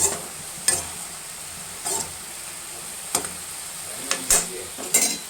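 Amaranth greens being mixed in a pan for a simple stir-fried poriyal, with a faint sizzle under sparse scraping strokes of a spoon spaced a second or so apart, close and quiet.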